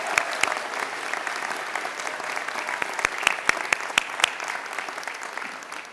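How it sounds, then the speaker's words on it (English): Steady applause from a convocation audience at a 2019 university orientation, sustained for several seconds with a few sharper individual claps standing out near the end. "Can you please give another round of applause to all the wonderful orientation staff we have here?"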